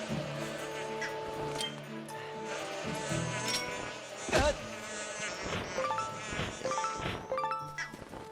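Bees buzzing in the video game The Legend of Zelda: Skyward Sword, a steady insect drone with game clinks and hits over a music bed, and a player talking at times.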